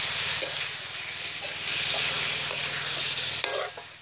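Giant catfish flesh stir-fried for spicy Thai fish, a steady loud sizzle with rhythmic scraping strokes of a spatula in the pan, a sharp clank near the end.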